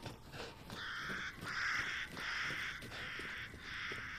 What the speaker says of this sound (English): Get out of the way, pigeons. Crows,